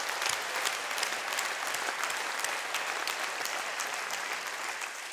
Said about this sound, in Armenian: եկեք մեր մայրերին մի հատ ջերմ ծափահարենք